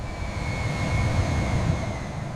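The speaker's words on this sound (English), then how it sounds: "The Dreamliner touches down gracefully, marking the successful completion of flight tests." A Boeing 787 Dreamliner landing after flight tests gives a steady, broad roar of aircraft engines with a low rumble and a faint high whine, holding constant throughout.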